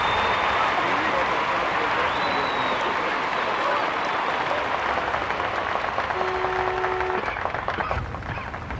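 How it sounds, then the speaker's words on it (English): Fans cheering and clapping at a junior European Cup ski jumping event in Engelberg, a dense, steady roar of crowd applause heard throughout beneath a commentator's voice. "The winners' fans are cheering"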